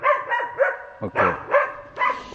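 Several trapping dogs on an old horse trail bark and yip in short repeated bursts, fairly close and loud, with a few whiny yelps mixed into the rhythm.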